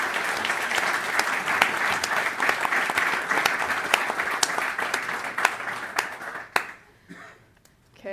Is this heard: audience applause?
yes